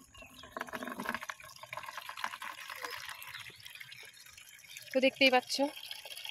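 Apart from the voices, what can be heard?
tap water filling tubs and a drum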